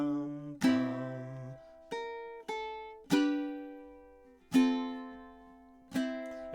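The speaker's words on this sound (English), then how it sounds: "So I'm going to play kind of the whole little middle riff section of this tune." Ukulele picking out the middle riff of a song, a series of distinct plucked notes and strummed chords with clear decaying attacks, close and alone with no talking.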